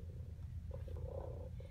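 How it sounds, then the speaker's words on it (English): A robotic toy cat gives a soft, continuous purr, low and faint, running as an even rumble close up with no voices. "She purrs beautifully"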